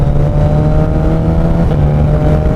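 A Suzuki Hayabusa fitted with a Brocks Penta carbon exhaust revs loudly up close, its deep steady engine drone holding strong and unbroken with no voices.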